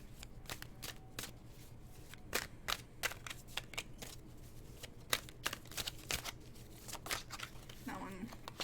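A deck of tarot cards is shuffled up close, a quick run of soft riffling snaps and flicks in irregular bursts, with a faint voice briefly near the end.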